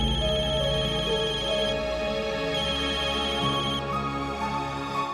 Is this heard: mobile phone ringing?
yes